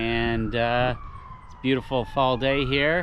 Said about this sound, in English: Got an ambulance going by.